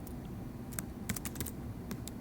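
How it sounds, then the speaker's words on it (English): Quick, light keystrokes clatter on a computer keyboard, several close taps in uneven bursts over a low steady room hum, with no talking. "I'm going to go in there and type this thing in here again"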